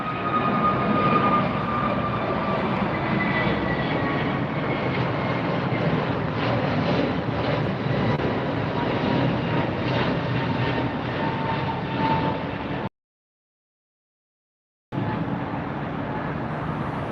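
An airliner departs LAX, its distant engine rumble a steady, moderate drone mixed with faint road traffic, broken by a two-second dropout near the end before the drone resumes.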